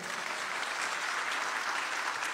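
A church congregation claps during a sermon, a brief, steady patter of applause heard fairly faintly and at a distance.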